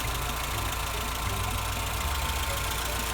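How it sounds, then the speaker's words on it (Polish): A car engine running on LPG after a gas system repair idles steadily and evenly throughout, a continuous low rumble with a faint ticking texture and no other sounds. "No zobaczcie jak cyka po naprawie gazu."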